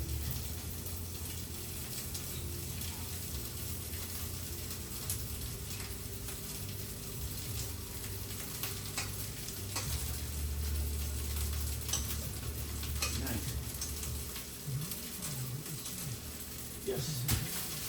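Rice stir-fried with vegetables in a hot pan, a steady close sizzle with scraping stirs and occasional clinks running throughout.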